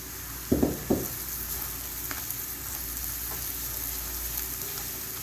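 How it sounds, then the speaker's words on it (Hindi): Ginger garlic paste fries with chana daal in a pan, opening with a few sharp utensil knocks before settling into a steady close sizzle. "अदरक लहसुन का पेस्ट इसके अंदर मैं शामिल कर दूंगी अब।"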